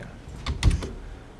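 Keys tapped on a computer keyboard during graphics programming work: a short cluster of three or four quick, close clicks rising out of a quiet room.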